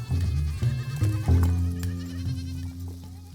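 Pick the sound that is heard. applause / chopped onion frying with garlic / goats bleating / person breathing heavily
goats bleating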